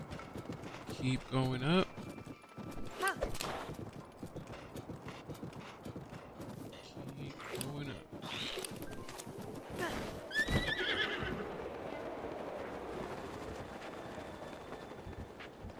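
A horse galloping in the video game Zelda: Breath of the Wild, steady clip-clop hoofbeats with loud whinnies near the start and middle, someone talking over parts of it.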